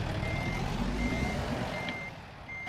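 Truck reversing beeps from American Truck Simulator, a steady series of evenly spaced electronic tones sounding over a low diesel engine rumble while the rig backs up, with no talk.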